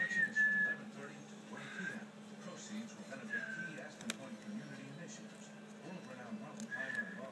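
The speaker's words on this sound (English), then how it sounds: "What are you doing? Are you whistling?" Soft, wavering whistles from a young child come in short separate bursts at a distance, quiet against a low background hum, while an adult talks gently in between.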